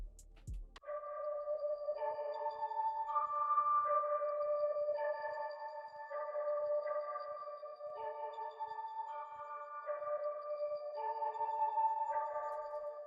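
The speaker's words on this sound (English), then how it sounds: "this weird sound I found in Analog Lab. I think it's a bell technically" Bell-like synth patch from Arturia Analog Lab plays a simple, slow repeating melody of clear, ringing tones, steady and fairly quiet, alone with no voices, in a dark trap beat.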